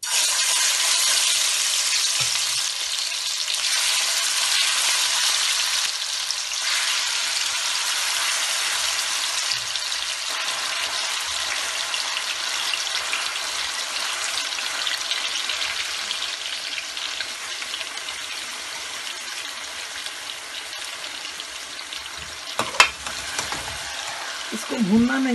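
Pieces of pasanda meat sizzle in hot oil in a pan, a dense, steady frying hiss that runs throughout, with a few small clinks toward the end.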